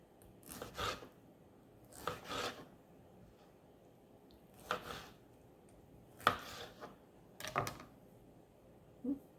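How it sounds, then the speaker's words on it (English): A knife cuts and cores tomatoes on a kitchen board, giving about five quiet, separate chopping bursts spaced a second or two apart in an otherwise hushed room. "now I'm cutting and coring tomatoes"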